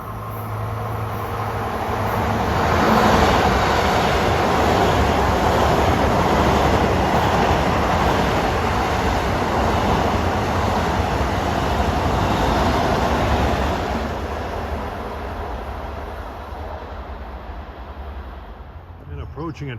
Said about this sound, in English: coming east at 5:12 is train 1970 from Penn Station to Ronkonkoma